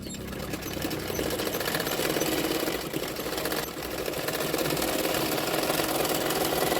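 A sewing machine stitches a belt onto a blouse in a steady, continuous mechanical whir of moderate loudness, with a brief slowdown partway through.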